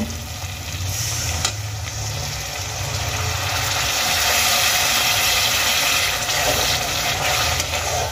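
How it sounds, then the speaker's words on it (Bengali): Water used to rinse out a yogurt bowl is poured into a sizzling masala for a Bengali egg curry. A loud hissing sizzle swells near the middle and then eases slightly, with faint watery splashing. "এবার আমি দইয়ের বাটিটা ধোয়া জল আমি এর মধ্যে দিয়ে দেব।"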